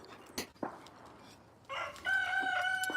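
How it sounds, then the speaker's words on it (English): A rooster crows near a makeshift chicken coop, its drawn-out call rising at the end of the clip after a few faint clucks and knocks. "Chickens."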